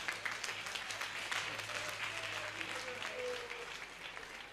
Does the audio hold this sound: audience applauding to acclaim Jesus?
yes